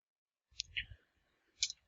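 Two faint, crisp computer mouse clicks, the second coming about a second after the first, in an otherwise quiet room.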